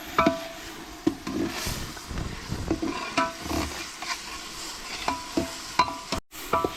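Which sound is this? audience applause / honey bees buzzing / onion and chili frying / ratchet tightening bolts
onion and chili frying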